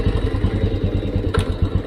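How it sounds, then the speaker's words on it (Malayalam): Close, steady putt-putt of a 1970 Royal Enfield G2 motorcycle engine idling, with a brief metallic click partway through. "ബൈക്ക് സ്റ്റാർട്ടായി"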